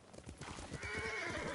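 Horse hooves clip-clop in a steady galloping rhythm in the Ghost of Tsushima video game, close and fairly quiet, with a brief neigh rising toward the end and no talk.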